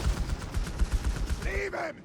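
Rapid machine-gun bursts crackle through a Company of Heroes 3 battle, dense and continuous, with a short tonal mechanical sound near the end.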